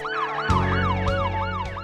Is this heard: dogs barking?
no